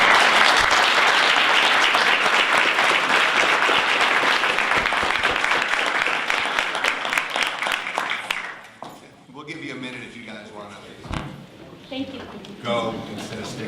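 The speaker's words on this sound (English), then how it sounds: "Those coaches deserve their own round of applause." Audience at a Brighton Area Schools board meeting applauding the school coaches, a dense, loud burst of clapping for about eight seconds that fades into scattered claps and murmured voices.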